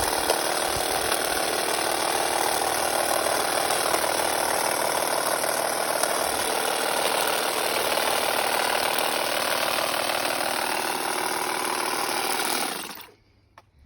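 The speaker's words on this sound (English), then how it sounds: "there's a quick demonstration on what the Stihl reciprocating tool can do" Stihl reciprocating rotary cutting head tool (RG-KM) runs continuously at full speed, close and loud, with a steady buzzing mechanical whine that cuts off abruptly near the end.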